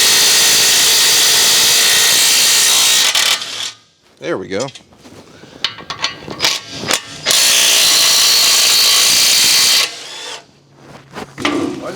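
Impact wrench spinning off 17mm caliper bracket bolts on a 2011 Honda Accord, loud rattling bursts near the mic, a long run then two more hammering bursts with brief speech between.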